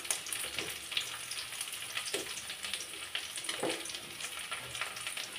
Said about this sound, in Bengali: মশলাগুলো একটু গোল্ডেন কালার করে ভাজি করে নিতে হবে।